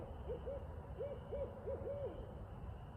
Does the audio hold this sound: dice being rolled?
no